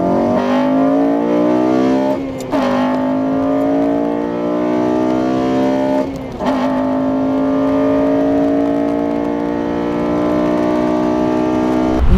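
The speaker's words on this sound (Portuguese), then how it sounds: "deixei o piloto fazer drift em volta de mim" A car drifts in circles around the listener, its engine held at high revs in a loud, sustained whine that drops briefly twice as the driver shifts or lifts, then climbs back up.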